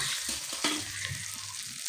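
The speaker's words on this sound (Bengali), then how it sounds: "এখন আমি মাছগুলো ভেজে নিচ্ছি" Fish pieces fry in hot oil in a pan, giving a continuous close sizzle with soft stirring scrapes and occasional spits, and no voices.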